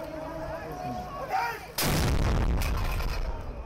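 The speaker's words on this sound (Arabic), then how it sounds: "حتى لصوت المدفع يبتهج الكثير من الصائمين هنا" After a murmur of crowd noise, a single loud Ramadan iftar cannon blast booms out, its deep rumble lingering and rolling on.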